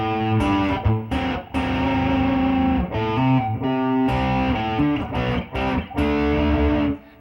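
Slow electric guitar riff of distorted power chords, including a B5 and a D5 with all three notes struck together, ringing loud and sustained with short gaps between chord hits.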